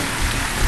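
Heavy rain in the Warthog Simulator game pours as a loud, dense hiss, brief and unbroken, with no voices over it.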